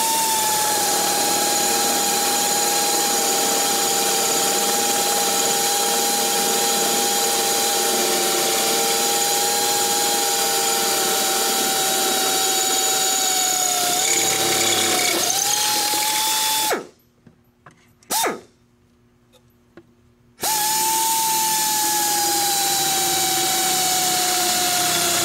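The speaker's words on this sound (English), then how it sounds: "and drill right through the bottom of the bulkhead." A power drill whines steadily at close range for a long stretch, drilling through the bulkhead of an FTX Polaris Pro chassis, its pitch wavering slightly, then stops briefly with a short burst before resuming.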